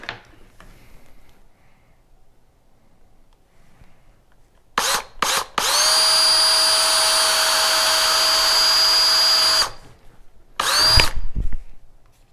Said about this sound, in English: Drill bits have a tendency to dance on your own plastic.